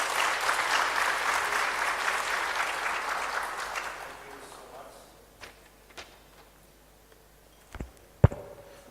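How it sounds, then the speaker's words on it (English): A conference audience on health, human rights and development in Uganda applauds the departing panel, a full burst of clapping that fades over about four seconds, followed by scattered footsteps and a few sharp knocks. "let's clap for our panel once again as they're taking back their seats"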